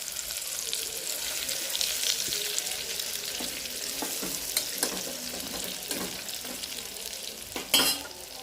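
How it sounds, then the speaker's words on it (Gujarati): Spices being stirred into a Punjabi-style whole parwal (pointed gourd) curry in a pan: a continuous frying hiss with repeated spoon scrapes and clicks against the pan, close and moderately loud, no voices. "સારી રીતના મિક્સ કરી લઈશું."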